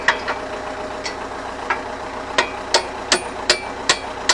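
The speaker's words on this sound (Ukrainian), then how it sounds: "Все молоточок." Sharp metallic taps from a small hammer while repairing a PLN 3-35 plough, a few scattered strikes then a quicker regular series, close by over a low background hum.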